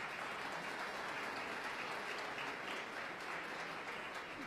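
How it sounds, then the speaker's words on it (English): Sustained applause from a conference audience honoring a task force and board of directors, steady dense clapping at moderate distance through the whole stretch with no talk over it. "Let's give them a round of applause"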